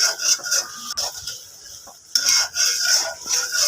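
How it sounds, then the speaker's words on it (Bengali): Spice masala for a catfish curry sautés in a pan while being stirred, a moderate sizzle broken by spoon scrapes and clinks, with a brief lull midway. "এখানে আমি মশলাটা ভালোভাবে কষিয়ে নিচ্ছি।"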